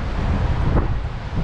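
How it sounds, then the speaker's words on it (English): Steady wind at the edge of a Blackpool pier buffets the microphone with a loud, continuous low roar, and there are no voices. "It's going to be windy."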